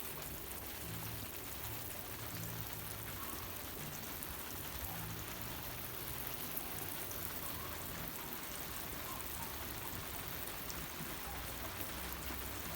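Water poured from above onto soil to mimic rain in a soil erosion runoff experiment, a steady faint wash of trickling and pattering that holds an even level throughout with no voices.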